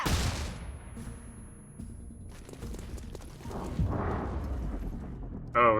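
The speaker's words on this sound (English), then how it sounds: "Grenade out!" A grenade goes off in XCOM: Chimera Squad with a loud opening blast that decays into rumbling debris and scattered impacts, then a second swelling burst and a sharp sound at the very end.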